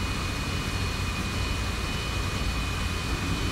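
An F-86 Sabre jet engine at around half RPM on a runway in a flight simulator game, a steady airy whine and rumble with a thin high tone held throughout, no talk.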